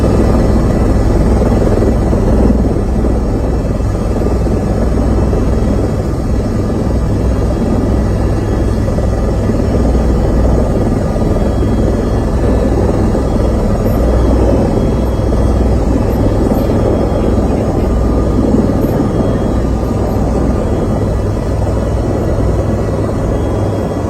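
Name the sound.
helicopter flying in played footage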